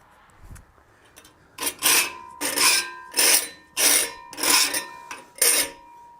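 A hand file rasps along the edge of a template in six rhythmic strokes, each a bright scraping burst with a ringing metallic squeal underneath, after a few faint preparatory touches.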